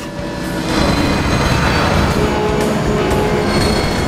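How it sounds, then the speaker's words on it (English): A train passing in the video game Transformers War for Cybertron, a loud, steady rumble of wheels and cars with faint squeals and clatter, rising in the first half second and holding without speech. "Don't get hit by the train, you fool!"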